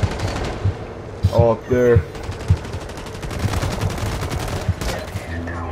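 Rapid automatic gunfire in the video game Blacklight Retribution, dense rattling bursts through most of the clip, with someone speaking excitedly over the shooting.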